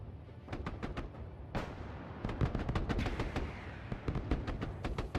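Missile launch in the video game Broken Arrow, amid a dense barrage of sharp blasts and rumbling booms that crackle steadily over several seconds, with a loud whooshing burst partway through.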